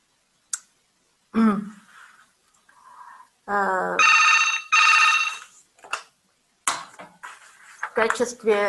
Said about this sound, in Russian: извините, мне звонят,